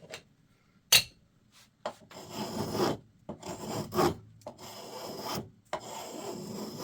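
A five-dollar spokeshave, freshly waxed, takes repeated rasping shaving strokes across wood, each pass a close, scratchy burst separated by short pauses.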